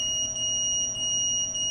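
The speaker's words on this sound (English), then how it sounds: "turn the stupid buzzer off." An FPV drone's buzzer sounds loud and close as a steady, high-pitched electronic tone with slight pulsing that continues without break.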